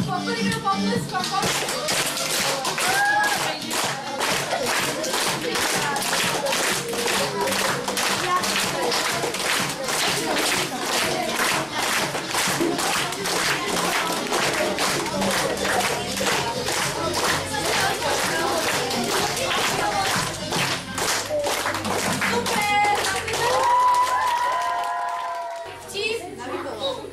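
A live audience at the Miss/Missák 2015 pageant show applauds, producing a dense, steady wash of clapping that lasts about 25 seconds and swells slightly near the end before fading.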